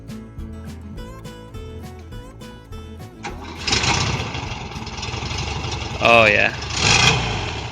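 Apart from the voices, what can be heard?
1973 VW Bus engine starting and running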